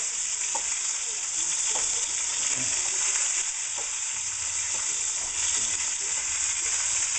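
A pork fat cap and onions fry together in a pan, giving a loud, continuous close sizzle with a few faint scrapes, heard alone without talk.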